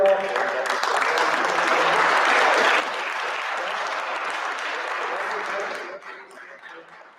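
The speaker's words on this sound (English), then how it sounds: "Kathy deserves a round of applause for that generous" An audience at an annual open meeting applauds, a dense wash of clapping that holds loud for a few seconds, then eases and fades toward the end as a voice starts to speak over it.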